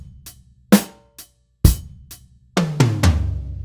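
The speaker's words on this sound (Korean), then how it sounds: "지금 원래 있던 연주에다가 요 탐을 한번 이어서 붙여볼게요." BFD3 virtual drum kit plays a sparse pattern with added toms: a few sharp drum hits spaced irregularly, then a quicker run of resonant tom strikes that ring out, loud and close, without any voices.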